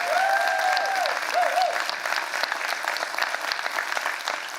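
Full, loud audience applause fills a downtown economic forum hall, dense steady clapping from a large crowd with a brief cheer or whistle near the start, continuing evenly to the end.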